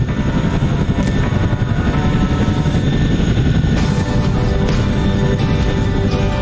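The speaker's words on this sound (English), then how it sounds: "Is that a Chinook taking off right now? That is a Chinook taking off." A Chinook helicopter takes off nearby in the Texas Hill Country during flood relief, a loud, steady rotor roar and thrum that fills the whole stretch with no voices over it.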